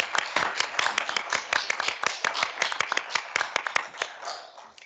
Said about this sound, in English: I think a round of applause for Maggie